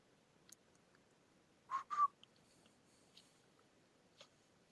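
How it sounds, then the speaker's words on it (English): A person whistles two short quick notes, sharp and fairly close, over quiet background with a few faint clicks. "Why don't you whistle for some backup?"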